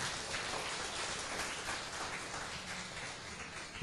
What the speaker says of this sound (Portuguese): Você é capaz de dar uma salva de palmas para Jesus?